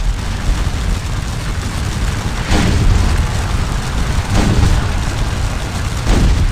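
Heavy artillery canister fire booms across a Napoleonic battlefield in Scourge of War: Waterloo, several deep blasts landing a couple of seconds apart over a constant rumble of distant musketry.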